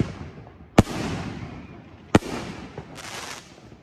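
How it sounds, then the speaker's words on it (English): Two sharp firework shell bursts crack outdoors at a July 4th park show, each followed by a crackling rumbling tail, with a fainter crackle of distant pyrotechnics near the end. "I was shooting some shells."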